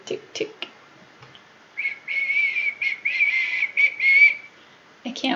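A person whistles a series of short, high, clear notes in an uneven rhythm, close to the microphone. A few brief bits of speech come just before and after.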